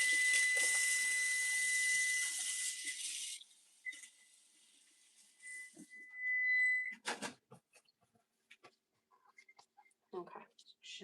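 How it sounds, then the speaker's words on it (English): Running tap water at a kitchen sink while hands are washed during home baking, a loud steady rush for a few seconds, then the tap shuts off and a thin whistle and scattered clinks and handling sounds follow, with someone talking. "gotta check that and wash my hand"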